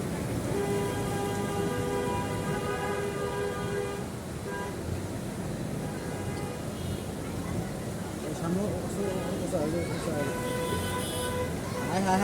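Heavy rain pours steadily on a flooded Dhaka street, a dense continuous hiss with traffic noise and someone talking loudly over it throughout.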